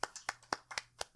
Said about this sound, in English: gives the reluctant clap